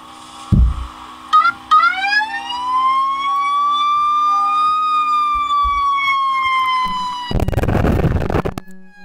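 A police siren from the Greenville video game wails loudly and steadily in a rising, sustained tone for several seconds, preceded by short chirps and ending in an abrupt burst of noise.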